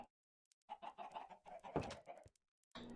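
Minecraft chickens clucking, a short run of quick, close clucks and squawks in a game with no one talking over them.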